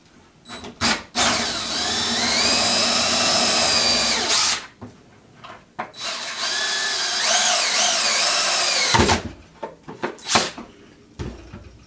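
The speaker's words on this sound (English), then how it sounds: "I'm just going to use 1 3/4 hole saw, drill a hole right in the middle" A power drill with a 1 3/4 inch hole saw cuts a hole for a homemade chicken waterer, whining in two long loud runs, with clunks and handling noises between and after.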